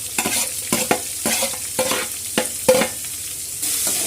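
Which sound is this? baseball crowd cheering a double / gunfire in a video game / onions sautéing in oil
onions sautéing in oil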